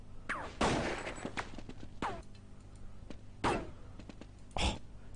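Gunfire in the video game Counter-Strike comes in several sharp, loud bursts, some single shots and some short rapid volleys, spaced a second or so apart, with no talk.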